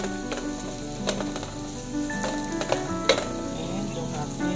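Cabbage and carrots fry in a pan with a steady sizzle, broken by scattered scrapes and taps of a utensil stirring the vegetables, moderately close.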